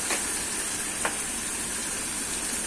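A spiced potato mixture with curry leaves sautés in a pan for egg-stuffed potato vadas, making a continuous soft sizzling hiss with a couple of faint stirring scrapes.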